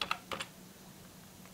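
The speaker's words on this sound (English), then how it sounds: "You're going to want to go and type in" A few quick keystrokes on a computer keyboard, clustered at the start with one more tap at the end, close and fairly quiet with near silence between.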